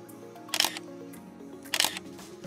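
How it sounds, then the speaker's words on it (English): Two crisp DSLR camera shutter clicks, about a second apart, close and distinct against a quiet room with faint hum. "Listen to the sound the shutter makes."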